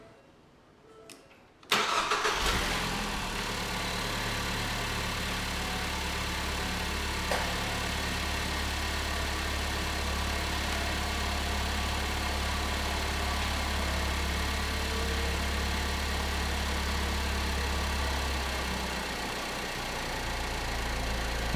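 A 2012 Ford Focus SEL engine cranks and catches after a brief quiet moment, then settles into a steady, low idle that continues to the end.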